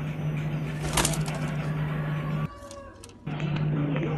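Pigeons kept by a fancier in Lucknow, soft cooing and bird movement over a steady background hum, with a brief quieter gap partway through, fairly faint and close.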